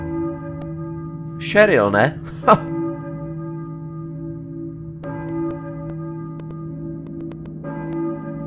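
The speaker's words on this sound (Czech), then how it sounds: "Slyším kostelní zvon? Kdo na něj zvoní?" A church bell tolls in Silent Hill with a low, ringing, sustained tone that rings out and fades, then strikes again twice at a slower pace, while a character speaks briefly over the first stroke.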